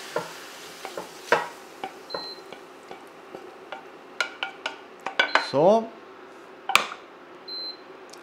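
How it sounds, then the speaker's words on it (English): Pieces of meat for boeuf bourguignon are dropped and shifted into a cooking pot, giving a series of soft thuds, scrapes and clinks with faint sizzling, while a person talks. "Take the meat, put them in the pot here as well for the moment."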